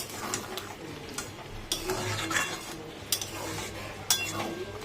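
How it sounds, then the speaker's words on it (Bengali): A spoon stirs chili and asafoetida in a cooking pan with intermittent metal clinks and scrapes over a low frying sizzle, several distinct taps spread across the stretch. "হিং দিয়ে এবার দেখো একটু ভালো করে নেড়ে নেবো"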